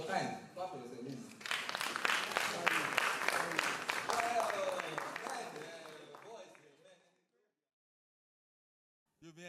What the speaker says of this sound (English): Clap for yourself, ladies.